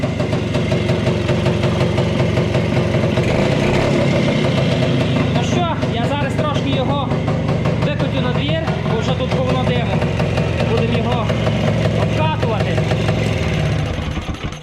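The engine of a Muravei motor scooter runs steadily after repair, a loud close idling drone with a continuous rhythmic putter that lasts until it cuts off near the end.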